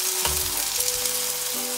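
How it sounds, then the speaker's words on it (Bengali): Dhoka, Bengali lentil cakes, frying in oil, a steady bright sizzle with a single tap of a utensil near the start, close and loud, with no one speaking. "উল্টো দিকটাও ভেজে নিতে হবে এটা একটু হালকা ব্রাউন করে ভেজে নিতে হবে"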